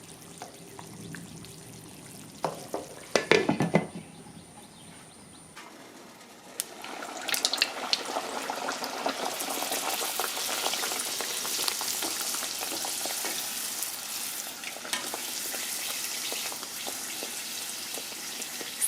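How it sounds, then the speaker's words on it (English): A pot of fried cabbage is stirred with a few clattering scrapes, then a lid goes on and a steady, close frying sizzle fills the rest. "We'll just stir that in and cover it again for the next 5 to 10 minutes."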